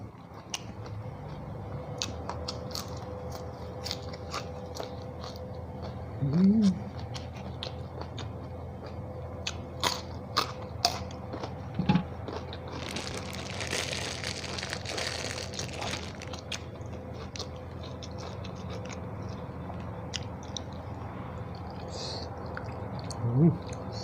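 Crunchy, crispy fried mackerel is chewed close to the mic with soft, irregular bites and crackles repeating through the meal, joined by a few louder clatters and brief murmured sounds.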